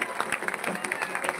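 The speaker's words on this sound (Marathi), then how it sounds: "वाजवा टाळ्या" Crowd at a political rally in Nimgaon Ketki clapping in a steady broadband patter, with a voice talking loudly over the claps throughout.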